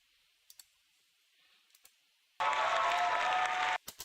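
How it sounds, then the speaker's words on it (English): People clap in a dense burst of applause lasting just over a second, loud against near silence, preceded by a few faint clicks. "I don't know why you're clapping at all."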